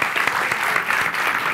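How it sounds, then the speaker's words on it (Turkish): Studio audience applauding at a Turkish television comedy talk show, a dense steady clatter of clapping that fills the whole moment at a loud, even level. "Alkışlarınızla Seda Yüz"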